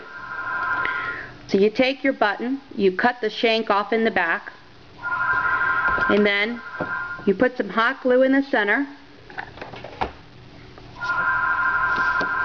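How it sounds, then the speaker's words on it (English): A mobile phone rings with a steady repeating electronic tone in three bursts, at the start, in the middle and at the end, partly overlapping a person talking about a crafting task. "Please excuse my phone."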